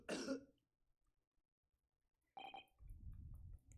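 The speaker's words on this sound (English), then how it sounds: "As he dies coughing from tuberculosis." A character with tuberculosis coughs in the courtroom video game The Great Ace Attorney: a short burst of harsh, close coughing, then after a silent pause a brief tonal sound and a low rumbling stretch.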